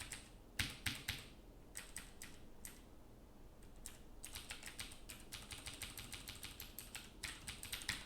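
A command being typed on a computer keyboard in quiet, rapid runs of crisp key clicks that break off into short pauses, then pick up again in a steady patter toward the end.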